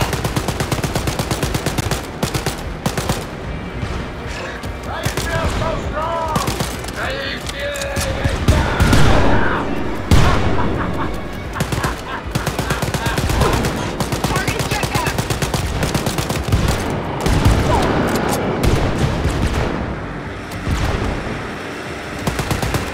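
Gunfire in the co-op shooter Wolfenstein: Youngblood, dense rapid bursts of shots and machine-gun fire throughout, loud and close, with players talking over the shooting.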